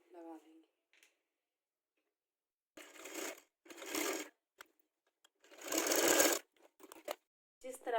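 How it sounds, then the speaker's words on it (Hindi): A sewing machine stitches a zip into the side of a suit in short, fast rattling bursts separated by pauses, close and clear, with brief speech at the start. "अब हम यहाँ तक सिलाई लगा लेंगे।"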